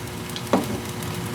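A porterhouse steak searing in a hot pan gives a continuous sizzle, with one short, louder scrape or thump midway as the meat is shifted. There are no voices.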